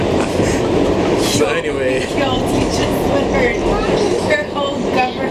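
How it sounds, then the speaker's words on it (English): A train car rolling along a rail line in New York gives a loud, steady rumble with wheel squeals and rattles, while people talk over it. "we on a train because it's almost impossible to go with my car"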